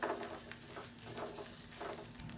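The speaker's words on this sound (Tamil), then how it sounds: "இப்போ இந்த தேங்காயை நல்லா வறுத்துக்கலாம். குறைவான தீயிலே வச்சு நல்லா வறுத்துக்கலாம்." Coconut being roasted in a pan over low heat for a potato gravy, with a soft, steady sizzle and occasional scraping strokes of stirring, close and fairly quiet with no voices.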